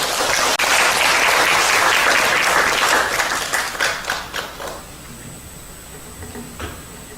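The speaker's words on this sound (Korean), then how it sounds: "두 분 박수로 맞이해 주시죠" A seminar audience at a border-region forum claps to welcome two speakers, a loud burst of many hands that thins into a few scattered, fading claps and then near quiet.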